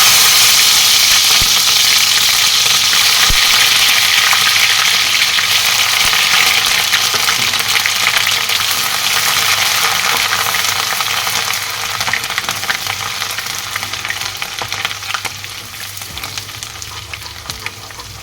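Ginger and garlic that were soaked in vinegar fry in hot oil for a pickle. The sizzle is loud and continuous, with a low hum behind it, and it eases slightly toward the end.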